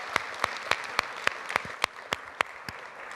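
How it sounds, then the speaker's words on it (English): Applause from an audience at a live startup pitch event, a steady run of clapping with sharp, evenly spaced peaks over a soft bed of scattered claps, moderately loud, with no voices. "give me a hand of applause"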